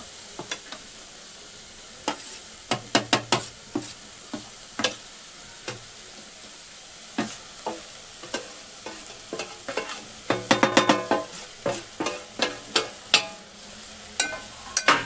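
Grated coconut and jaggery for a modak filling roast in a pan under a quiet background sizzle, punctuated by repeated crisp clacks of a spoon stirring, which grow quicker and denser toward the end.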